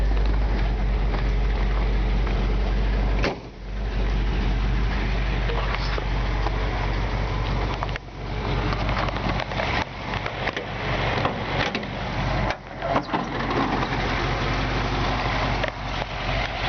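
A restored 1951 Ford F1 pickup's rebuilt original flathead V8 idles with a steady, low, even rumble throughout, while a voice talks over it nearby.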